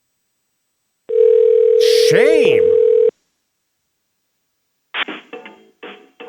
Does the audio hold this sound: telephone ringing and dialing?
yes